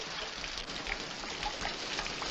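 Steady rain falls throughout a scene from an old classic movie, a dense, even hiss with soft patters at a constant moderate level and no voices.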